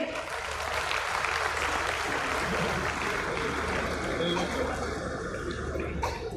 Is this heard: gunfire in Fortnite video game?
no